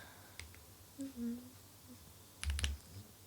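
Computer keyboard typed on while coding a Flutter widget in Dart: a brief, close cluster of quick key clicks near the end, with sparse fainter taps before it and a soft voice murmuring at times.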